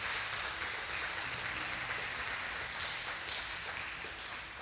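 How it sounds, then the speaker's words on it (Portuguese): A church congregation claps during an evening service, a steady wash of many hands that sounds fairly distant and soft, almost like rain. "suas palmas engrandecem o nome do Senhor nessa noite, em nome de Jesus."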